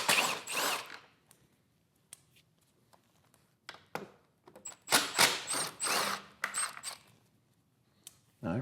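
Torx 40 bolts come out of a Harley Street Glide handlebar mount, with bursts of ratcheting, clicking metal and tool handling close up, separated by short quiet pauses.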